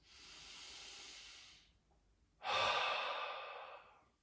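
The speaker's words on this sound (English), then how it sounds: "take a big inhale through the nose. And a big sigh out." A deep breath drawn in through the nose, then a long audible sigh pushed out, two close breaths in a quiet yoga session with no talking.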